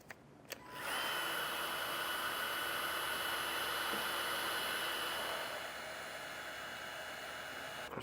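Heat source such as a heat gun blowing to shrink a heat shrink butt connector during a trailer connector install, switching on with a click into a steady airy whooshing roar that drops slightly in level partway through.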